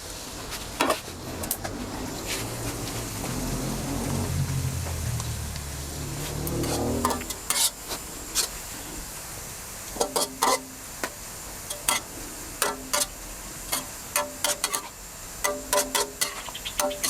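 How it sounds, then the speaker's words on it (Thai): Shallots fry slowly in oil over medium-low heat, a steady soft sizzle that fades midway, then gives way to sharp clinks and taps of a utensil against the pan. "เราใช้ไฟกลางค่อนไปทางอ่อนนะครับ ค่อยๆเจียวนะครับ หอมแดงจะเจียวไปเรื่อย"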